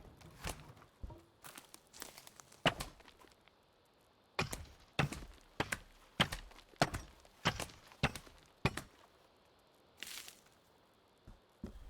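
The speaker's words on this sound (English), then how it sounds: "I don't know if you can hear those footsteps, but there's definitely something going on downstairs." Footsteps from downstairs in the video game Sons of the Forest, a series of thudding steps in irregular clusters, fairly close and distinct against a quiet background.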